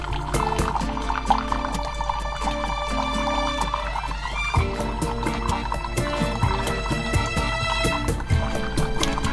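A Narcissus water heater dispensing 8 ounces of hot water at 115 degrees, with a steady trickling pour into a cup accompanied by faint machine hum and small clicks.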